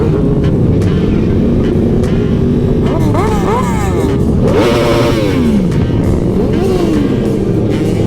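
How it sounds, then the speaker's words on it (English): A motorcycle engine revs repeatedly, its exhaust rising and falling in pitch over a steady idle rumble. "Any excuse to rev this thing. I love the sound of this exhaust"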